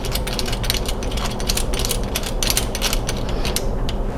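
Screw being tightened on a Dewalt 5-in-1 hacksaw, DWHT20547L, a close rapid ratcheting and creaking mechanism sound in quick irregular clicks, alone with no talk.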